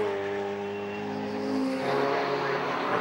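Lotus Elise race cars battling for position at Castle Combe circuit, a sustained loud engine roar with rising and falling revs as the cars pass close by, continuous throughout.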